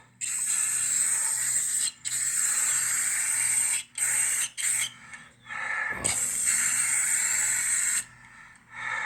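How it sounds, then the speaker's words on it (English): A spray paint can hisses in long bursts with short pauses between them, close and loud; a person briefly exclaims once. "Keep spraying. The more spray paint, the better."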